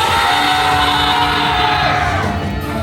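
A crowd at a camp worship session yells "Jesus" together in one loud, sustained shout that fills the clip.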